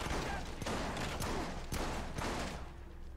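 Shotgun blasts in the video game The Bourne Conspiracy, several sharp broadband bursts over a dense, continuous barrage of battle noise, loud and close.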